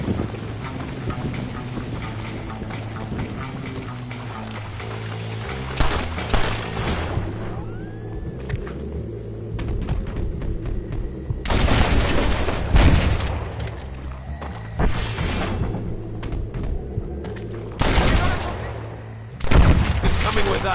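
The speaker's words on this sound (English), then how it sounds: "Follow me, we'll shoot our way in there." Red Dead Redemption shootout gunfire, with scattered shots and loud booming bursts over a steady musical score and horse hooves clopping, growing more intense in the later half.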